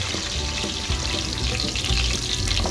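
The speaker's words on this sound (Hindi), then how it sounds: "हमने एक बर्तन में तेल डाल दिया, उसके अंदर कुटा हुआ लहसुन जो है वो डाल देंगे।" Crushed garlic fries in hot oil in a cooking pot, giving a dense, steady crackling sizzle close up with scattered pops and faint stirring clatter, no voices.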